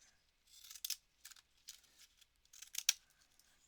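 Scissors snip through paper in a series of quick, close crisp cuts, irregular bursts of shearing and rustle with small gaps between, no talking.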